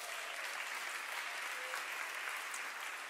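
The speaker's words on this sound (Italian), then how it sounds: "vogliamo farvi un applauso di benvenuto" A church congregation at a Sunday worship service breaks into dense, steady applause to welcome first-time visitors, a continuous wash of many hands clapping at even volume throughout, with no voices standing out.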